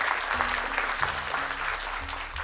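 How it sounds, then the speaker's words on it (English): Parents at a school annual day event applaud the teachers with a steady, dense wash of clapping from a large audience, fairly even in loudness, with faint voices beneath. "So a big round of applause to my entire team of teachers"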